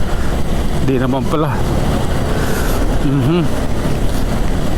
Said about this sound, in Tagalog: Pag ganito kasi umuulan